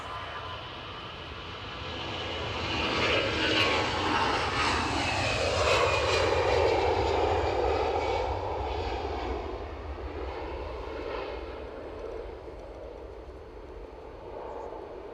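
Edelweiss Airbus A350 airliner passing by an airport, a broad steady engine roar that swells toward the middle and slowly fades, with a faint falling whine over the rumble.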